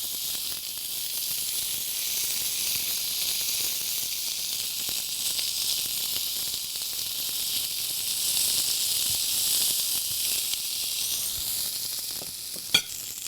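Chicken shish-kabob frying in oil in a pan, a steady close-up sizzle and hiss that runs continuously for over ten seconds with one sharp click near the end.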